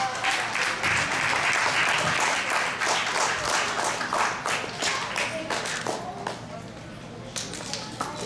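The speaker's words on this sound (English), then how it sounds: "Please give a big round of applause to all the kids." An audience claps for the children at a music school prize distribution, a full continuous round of applause that is loud at first and thins slightly toward the end, with voices audible beneath it.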